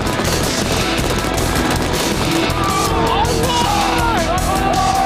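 Navy SEAL trainees firing rifles during daylight attack practice, dense loud bursts of gunfire with voices shouting over the din.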